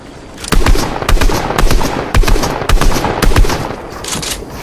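A pump shotgun fires repeatedly in an arena match of an online shooter game, with about eight loud, punchy blasts spaced roughly half a second apart, each with a short booming tail.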